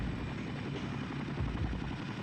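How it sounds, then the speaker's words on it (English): A Boeing CH-47 Chinook tandem-rotor heavy-lift helicopter gives a steady, dense rotor and engine roar. It stays even and broad for the whole short stretch, with no voices. "the CH-47 Chinook, a powerhouse tandem rotor helicopter developed by Vertol and manufactured by Boeing"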